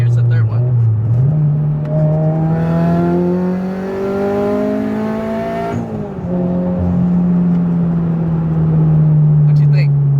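Turbocharged Subaru BRZ revving hard on a dyno at about 10 psi of boost on pump gas, the engine note climbing steadily for several seconds, then dropping off and settling into a loud steady drone.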